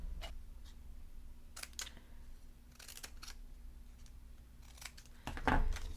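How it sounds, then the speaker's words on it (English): Scissors snip a paper strip into a banner for a scrapbook page, a few crisp, close cuts spaced irregularly over a low, steady hum, ending in a slightly louder rustle. "But I think I'm going to trim it into a banner."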